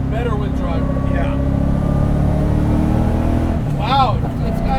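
A 1986 Mazda FC RX7 with a swapped LS V8 engine drones steadily from inside the cabin, a deep continuous rumble with a slight rise in revs, while people talk over it.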